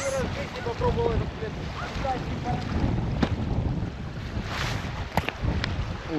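Cold wind gusts roar and buffet the microphone beside a stream during winter fishing at around plus 2-3 degrees, a loud, steady rushing broken by sharp clicks and handling knocks, with a voice heard briefly early on.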